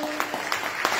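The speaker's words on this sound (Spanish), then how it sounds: "Quiero que recibamos con un fuerte aplauso a Luis Emilio Anino," A short burst of audience applause at a conference on UFO studies, dense clapping from a crowd at steady volume.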